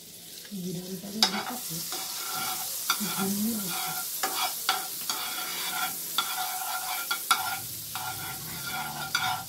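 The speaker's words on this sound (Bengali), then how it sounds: "তাওয়াটা একটু গরম হয়ে গেলেই আমি ওতে আবার বাটার দেবো।" Butter frying on a hot tawa griddle for a butter egg bread sandwich, a steady close sizzle with scattered sharp crackles and pops, plus soft scraping and stirring sounds, with no voices.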